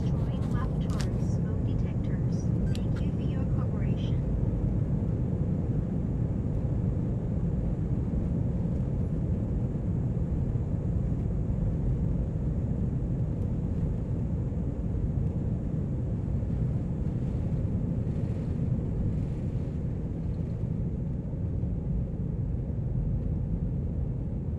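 Airplane cabin on a domestic flight to Bangkok, a steady low engine rumble and air roar filling the cabin continuously, with some brief clatter near the start.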